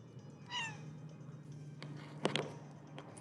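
A house cat meows once, clear and close, on an off-grid trip, followed by a few light knocks and rustles in a quiet setting.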